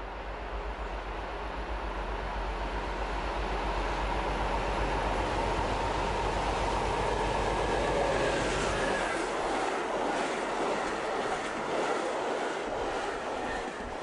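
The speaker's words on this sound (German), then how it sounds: "233-314 wird gleich den Bahnhof Balberge erreichen." A DB class 233 Ludmilla diesel locomotive of about 3000 hp rolls toward Balberge station with a loud, steady engine drone and heavy low rumble, its deep throb easing off midway as the train rolls on.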